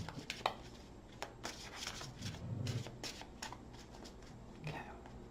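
Tarot cards being shuffled by hand, a series of soft quick riffling and slapping bursts at close range, fairly quiet, with faint background rumble between them.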